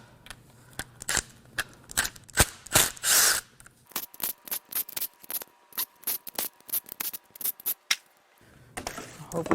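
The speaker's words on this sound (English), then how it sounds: "Now let's peel the valve covers off." Metal-on-metal clicks, scrapes and sharp taps as valve covers are pried loose from a Dodge Viper V10 engine, with a bent, jammed part nearby; close, irregular bursts with brief quiet gaps, no talking.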